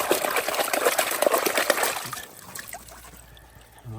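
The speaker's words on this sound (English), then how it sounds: "And we'll just let that water run." Water gushes steadily from a pump outlet at an off-grid mountain cabin, a loud close splashing flow that drops to a softer trickle partway through.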